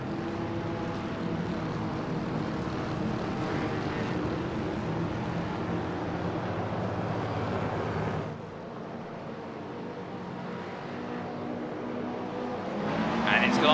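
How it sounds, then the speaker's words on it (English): Race cars in the iRacing sim pull away together at a race start at Circuito de Jerez, a dense, continuous roar of many engines droning steadily, easing slightly partway and swelling again at the end as a voice talks over it. "Lights out and away we go for round number 3 as Clemens is jumped by Dream Team Motorspor"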